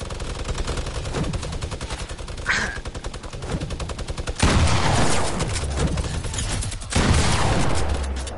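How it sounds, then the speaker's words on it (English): Rapid automatic gunfire from a video game rattles in dense, loud bursts, with heavier volleys cutting in toward the end. "who's shooting at me, bro?"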